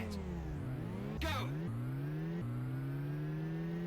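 Computer-controlled car engine in Lotus Turbo Challenge II, a synthetic buzzing drone that sweeps up through repeated gear changes, with a quick whooshing burst midway, loud and steady throughout.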